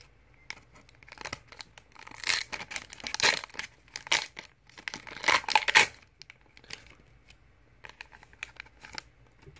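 A foil baseball card pack wrapper being torn open by hand without scissors during a 2019 KBO League Premium Collection box break: bursts of crinkling and ripping, loudest in the middle, close and fairly quiet, with no talk.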